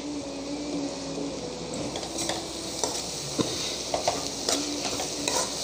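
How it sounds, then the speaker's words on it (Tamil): Eggs are poured onto frying cauliflower in a pan and stirred: a steady sizzle runs throughout, with scraping spatula strokes and sharp clinks against the pan growing more frequent toward the end. "இதில் இந்த முட்டையை உடச்சி ஊற்றிடலாம்."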